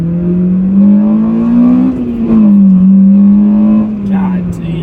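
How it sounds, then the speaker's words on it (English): Acura Type S car on stock 16-inch wheels accelerating hard in second gear, a loud steady engine drone rising in pitch inside the cabin, with someone talking over it. "God damn, that thing pulls."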